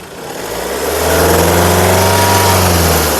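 A 2016 Mahindra XUV500 W6 engine runs close by with a steady, even hum that swells slightly and then holds at a constant level.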